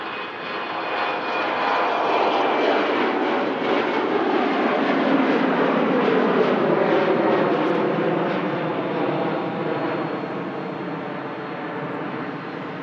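Airplane departing Manchester Airport in light wind, a loud sustained jet engine roar that swells and then slowly fades as the aircraft climbs away.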